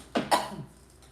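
A woman coughs twice in quick succession, a short hoarse burst followed by a louder, rougher one that trails off, close and alone with no talking.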